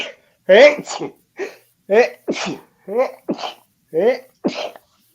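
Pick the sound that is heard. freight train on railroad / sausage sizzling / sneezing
sneezing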